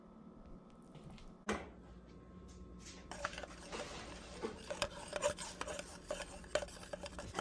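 A whisk stirring batter for pineapple mini cakes in a bowl: quiet scraping and rubbing with clinks against the bowl, starting faintly and growing busier and more irregular toward the end, close by, with no talking.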